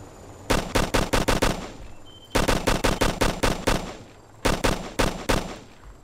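M16 rifle fire in the video game ARMA: Cold War Assault rings out in three loud, close bursts of rapid, evenly spaced shots, with short pauses between volleys.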